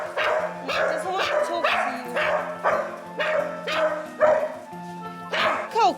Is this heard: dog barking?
yes